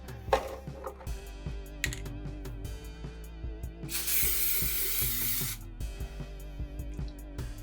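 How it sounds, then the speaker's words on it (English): Flex Seal sprays from a can onto the bottom of a homemade plant dish in one sustained, close hissing burst, with scattered light taps and clicks before and after. "take some Flex Seal and I'm going to spray the bottom of it"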